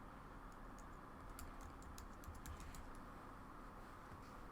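Keys are typed on a computer keyboard during software work, a faint, quick burst of light clicks over a low steady hiss, with no speech.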